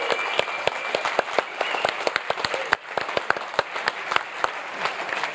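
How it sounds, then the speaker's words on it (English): An audience claps at the close of a Bitcoin panel discussion at a forum, sharp individual hand claps in a lively, uneven patter that stays fairly near and steady, with little talk. "Let's get a big round of applause."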